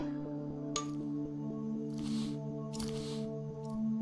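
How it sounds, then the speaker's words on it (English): Embalming machine in the video game A Mortician's Tale, a low steady electric hum with a few short hissing and clicking bursts over it, quiet and alone. "And the machine kind of does sound like this."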